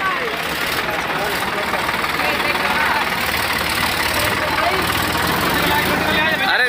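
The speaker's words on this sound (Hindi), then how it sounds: "दो ट्रैक्टर से ये कैंटर खींचेगी, एक ट्रैक्टर बता रहे हैं।" A tractor engine labours to pull an Eicher 3015 canter truck stuck in a field at night, a steady loud rumbling drone that fills the whole stretch, with muffled voices mixed in.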